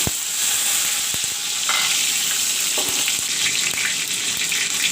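Tomatoes and panch phoron fry in hot oil, giving a loud, steady sizzle with scattered crackles and a few sharp taps of stirring, close by and continuous without speech.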